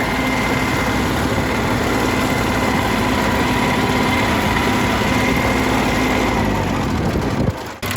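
A car engine after a fuel pump replacement pulls steadily in fourth gear, a loud continuous drone with constant road and engine noise that cuts off abruptly near the end.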